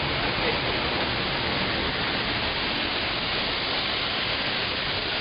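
Powerful Düden Waterfall in Turkey, heard at its mouth as a dense, unbroken roar of falling water, loud and close with no other sounds.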